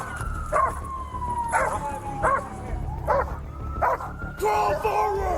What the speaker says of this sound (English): I got the dog!